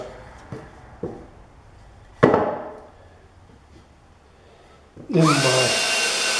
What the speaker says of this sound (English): I pre-drill holes in my